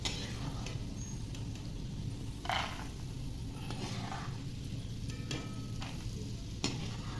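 Okra pieces frying in hot oil with a steady close sizzle and crackle, a few brief stirring scrapes cutting through the bubbling.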